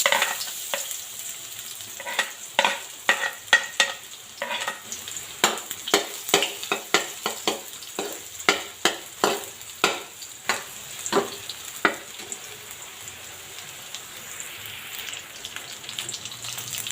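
Chopped garlic fries in a little oil in a pan, crackling and popping in quick irregular bursts, with occasional stirring and no talk.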